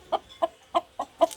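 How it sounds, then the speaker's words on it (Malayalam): A rooster and hens cluck in short, evenly spaced bursts, five clear calls close by with quiet gaps between, no talking. "പൂങ്കോഴി"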